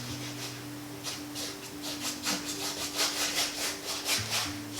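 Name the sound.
paintbrush scrubbing back and forth on painting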